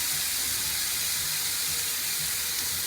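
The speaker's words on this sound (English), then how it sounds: "So there we are, sizzling up, cooking nicely." Chopped olives and tomatoes sizzle in a hot, smoking pan, a loud continuous bright hiss with faint crackles and low bubbling underneath.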